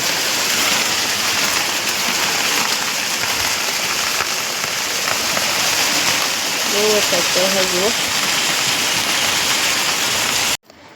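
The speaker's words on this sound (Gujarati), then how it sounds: "અને જુઓ આ બાજુ એટલો વરસાદ પડે" Heavy rain pours steadily outside a house in windy weather, a dense continuous wash of drops on surfaces close by, with a brief voice speaking partway through before the sound cuts off abruptly at the end.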